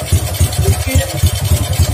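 A stock motorcycle with a standard carburetor and a high-compression racing camshaft idles loud and close with a lumpy, uneven rhythmic thump, while a person talks over it.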